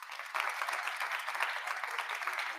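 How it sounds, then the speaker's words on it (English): People at an MLK celebration clap their hands together as a trial run: a soft, steady patter of many hands, fairly distant and even, starting just after a brief pause. "Let me get everyone just to clap their hands."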